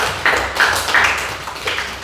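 Classmates clap for group 1 in a classroom, a brief, uneven patter of hands from a small group with a few louder claps standing out.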